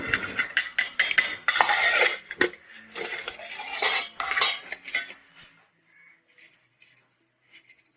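Chopped onion goes into a pot of soaked lentils with a busy run of metallic clinks, scrapes and spoon taps, then the sounds thin out to a few faint knocks and near silence.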